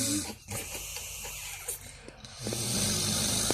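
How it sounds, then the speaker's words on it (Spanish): A sleeping man snores in long, rasping breaths with snorting catches, close and fairly loud, broken by short pauses between breaths. "Deja de roncar, no lo voy a grabar."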